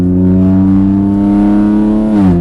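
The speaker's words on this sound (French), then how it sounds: "après on accélère légèrement" A car accelerating on a race track at Mireval: a loud, steady engine drone held close throughout, with its pitch dipping near the end as the revs shift.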